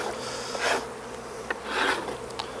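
Honey bees in an opened hive box hum as a steady buzz, with a few closer bees swelling and fading as they fly past. The sound is faint and stays clear of voices.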